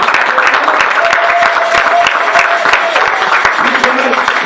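At a Sunday church service in Brussels the congregation applauds in a sustained, dense clapping that holds at a steady loud level throughout, with voices calling out beneath it.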